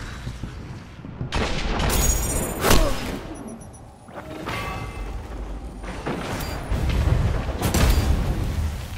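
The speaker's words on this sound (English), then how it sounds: "Enemy team eliminated." Gunfire and booming impacts in Destiny's Trials of Osiris mode come in clustered bursts, loud and close, with sharp cracks and crunching blasts separated by brief lulls.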